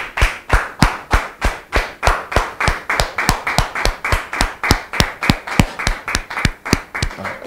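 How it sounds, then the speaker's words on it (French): A studio audience welcomes a guest on a French-language talk show with steady, rhythmic clapping in unison, about three crisp claps per second, loud and close throughout. "Sous vos applaudissements, s'il vous plaît."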